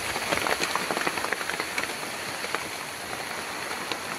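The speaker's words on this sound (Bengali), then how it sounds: "বৃষ্টির ফোঁটার আওয়াজটা" During heavy rain, large raindrops fall sharply, a dense patter of close, irregular hits over a continuous wet hiss, louder at first and then settling into a steady downpour.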